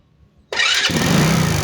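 A motorcycle engine fires up right after a spark plug fix, catching on a single kick and settling into a steady, loud idle that carries on to the end with no voices.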